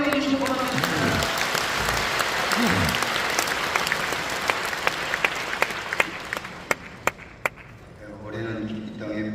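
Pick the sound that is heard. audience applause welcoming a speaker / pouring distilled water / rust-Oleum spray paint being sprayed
audience applause welcoming a speaker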